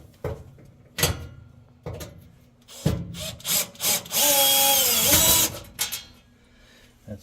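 A power drill whirs in one sustained burst to back out screws from a Samsung oven door, preceded and followed by scattered knocks and handling clatter close by.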